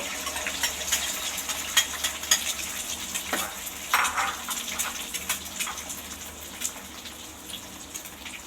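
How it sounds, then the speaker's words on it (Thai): Garlic and egg stir-frying in a pan for a homestyle glass-noodle dish: steady close sizzling with scraping and stirring clatter throughout, with a few sharper pan knocks and no talking. "เจียวกระเทียมให้หอม ไข่ ใส่ไข่"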